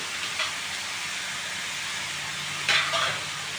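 Three chopped medium tomatoes sizzle in a pan for a Sindhi karela and potato sabzi, a steady close hiss broken by a few brief stirring scrapes near the end.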